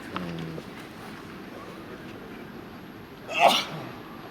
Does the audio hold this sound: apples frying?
no